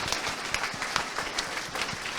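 A tech conference audience at a games festival applauds after a presentation, a steady patter of many hands clapping at moderate distance, fairly quiet and continuous.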